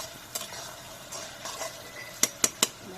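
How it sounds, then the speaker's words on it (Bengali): Curry is stirred in a pan, a faint sizzle under a few soft scrapes and then three sharp spoon clinks against the metal near the end, close and without voices. "আবার একটু লড়া দিয়ে দিলাম"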